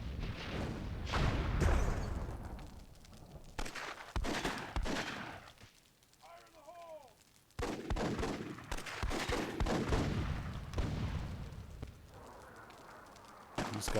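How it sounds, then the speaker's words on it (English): Booming artillery blasts in the World War II-themed Myth II Soulblighter, several heavy shots in bursts with crackling fire between, a quieter lull midway, and little talk. "Nice cannon shot there from"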